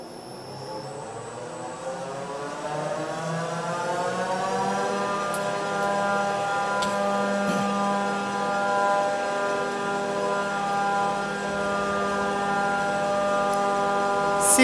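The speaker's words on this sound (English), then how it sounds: "Now we will feed green chilies to the machine." An Urschel Model DCA industrial cutting machine processes green chilies, giving a loud, continuous mechanical whine that climbs slightly in pitch over a steady rumble, with a few faint clicks and no talking.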